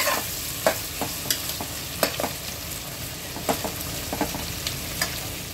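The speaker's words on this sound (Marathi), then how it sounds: "छान आता आपण तेलात व्यवस्थित भाजून घेऊया, गुलाबी रंग येईपर्यंत कांद्याला." Sliced onions sizzle in hot oil while being stirred, with a soft steady frying hiss broken by repeated scraping clicks of a spoon against the pan, close and moderately quiet.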